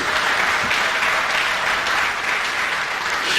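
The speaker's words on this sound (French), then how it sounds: "Applaudissez le panel, s'il vous plaît." An audience at a conference in Kinshasa applauds a panel, a full and steady burst of clapping from many hands that stays loud and even throughout.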